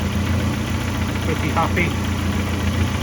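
A Ford Escort Mk1 engine idling at about 1,000 RPM, a steady low rumble close by, while someone speaks briefly over it.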